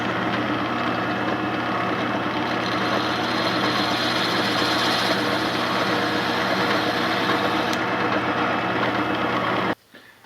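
A drill runs while quarter-inch and half-inch holes are bored for homemade camping gear, making a steady motor drone with faint vibration that holds for about ten seconds and then stops abruptly.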